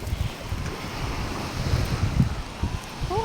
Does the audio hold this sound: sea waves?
yes